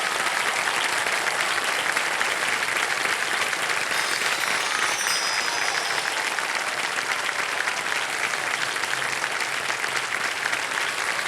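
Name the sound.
studio audience applause welcoming guests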